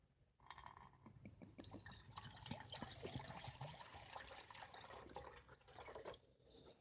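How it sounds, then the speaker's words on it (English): Water is poured into a pot at an outdoor cooking setup, a steady faint splashing and trickling that runs for several seconds with soft drips, no talking. "I'm going to go ahead and pour some water in there."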